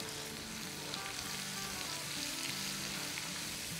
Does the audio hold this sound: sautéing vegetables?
yes